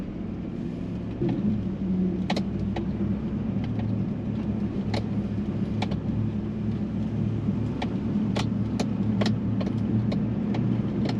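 A four-wheel-drive truck rolls across beach sand at Amelia Island State Park, a steady low engine rumble and tire noise running continuously throughout, with scattered faint clicks and no talking.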